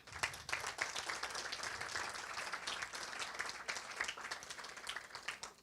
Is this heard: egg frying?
no